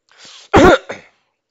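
A single close cough with throat clearing, a short rasp, then one sharp loud burst and a softer trailing clear, with no talking.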